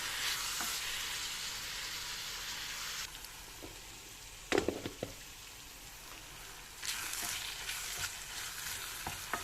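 Onions and peppers fry in a pan, sizzling with a steady hiss that drops away briefly while the mix is stirred, with a few clanks, then returns at full sizzle.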